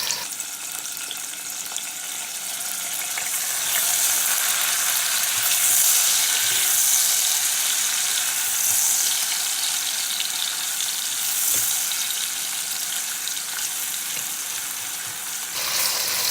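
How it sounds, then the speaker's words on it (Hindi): Onions frying toward light brown for a dhaba-style mash and chana dal, a continuous hissing sizzle that stays loud and even throughout before cutting off at the very end. "हल्का सा ब्राउन होने तक हम इस अनियन को फ्राई करते जाएंगे।"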